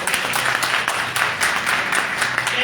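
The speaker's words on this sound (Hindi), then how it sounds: "एक बार ताली बजा दो इसके लिए।" A seminar audience applauds steadily, a dense wash of clapping hands at moderate loudness that carries on without a break and with no talk over it.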